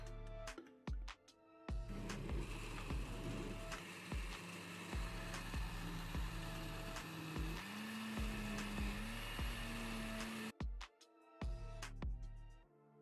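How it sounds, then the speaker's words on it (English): A blender blitzes pea soup at maximum speed, with a loud sustained motor whir whose pitch shifts as the contents churn, set between quieter stretches with background music. "Then I put everything in the blender and blitz on maximum speed for 5 minutes."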